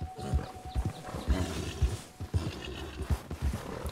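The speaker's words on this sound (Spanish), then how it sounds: "No entiendo qué le pasa al caballo con tanto relinchar." A horse in Red Dead Redemption 2 neighs repeatedly amid snorts and thudding hooves, fairly close, with a game-like mix and no speech.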